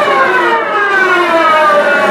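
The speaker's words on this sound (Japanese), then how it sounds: "巻き弦、この4、5、6弦をこすっていくわけです。" A guitar pick scrapes along the wound fourth to sixth strings, held at a slant, producing a loud, close, rising whooshing scratch that sweeps in pitch for about two seconds, alone without talk.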